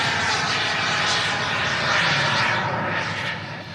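An engine of a radio-controlled model aeroplane drones loudly and continuously overhead at an outdoor model show, its pitch wavering slightly as the plane spins through the air.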